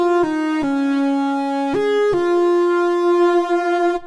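Keyboard playing the solo at tempo, a short run of sustained synth-like notes stepping between pitches, clear and close with no talk.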